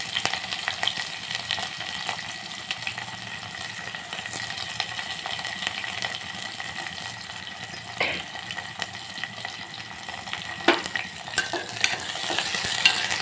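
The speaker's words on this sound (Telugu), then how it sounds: "ఆనియన్స్ కూడా వేసి మగ్గించుకోవాలి" Chopped onions with mustard seeds, cumin and curry leaves fry in a pan for a stuffed ridge gourd masala curry, giving a continuous close sizzle with occasional stirring scrapes and no voices.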